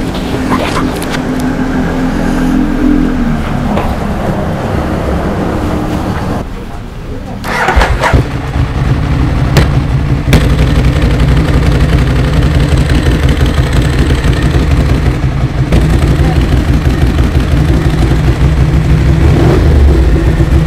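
A Yamaha Vixion motorcycle styled as a Ducati is cranked and fires up, revving loudly before settling into a steady rumbling idle, close by, while people talk over it.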